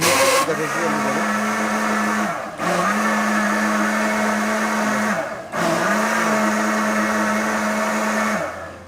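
A Niyama juicer blender machine blends a milkshake in three loud sustained whirring runs, each starting and stopping abruptly with brief pauses between, close up and with no speech.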